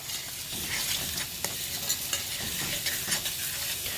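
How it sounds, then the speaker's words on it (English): Alfredo sauce is stirred in a pan on the stove, a close, steady scraping with soft sizzling and occasional clicks of the utensil against the pan, without talk. "We've got our sauce right here, and you just want to make sure that you continue to stir"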